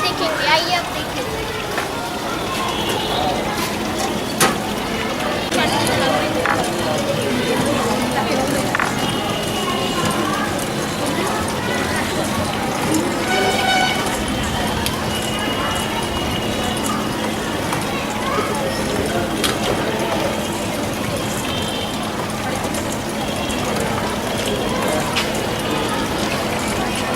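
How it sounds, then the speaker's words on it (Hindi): A bicycle-powered washing machine churns dirty cloth, with steady sloshing water and mechanical rattling running continuously, while people talk over it now and then. "अब हम इसे धो के देखेंगे।"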